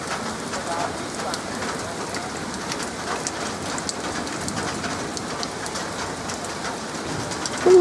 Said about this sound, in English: I wonder why it's storming so hard.